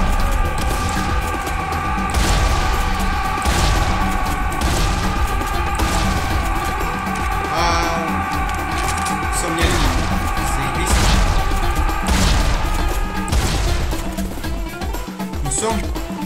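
Rapid gunfire and repeated booming blasts of exploding enemies in Serious Sam 3: BFE, dense and continuous, with crashes layered over a steady soundtrack.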